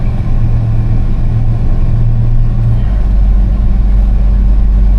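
A 1986 Chevrolet C10 pickup with a 350 V8 runs steadily at idle, a low continuous engine rumble close by with a brief higher tone fading out partway through.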